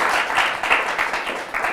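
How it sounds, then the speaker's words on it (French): Audience applause, a dense burst of clapping from many hands, loud and steady for a couple of seconds. "ça s'applaudit très très fort"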